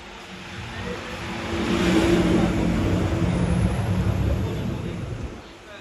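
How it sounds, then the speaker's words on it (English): Cars rush past on a Brooklyn street, one swelling louder as it passes close and then fading, over a constant bed of city traffic noise. "You can hear the cars."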